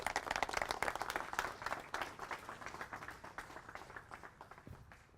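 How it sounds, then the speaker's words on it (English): An audience claps warmly for a speaker introduced at a Magna Carta event, a dense burst of applause that gradually thins and fades over several seconds. "please give a very big round of applause to Mr. Daniel Hannan."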